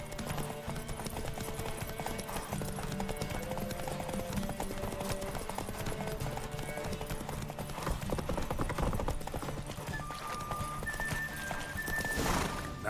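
Geralt's horse Roach in The Witcher 3, hooves beating a steady gallop close by for the whole stretch, with a whinny rising near the end.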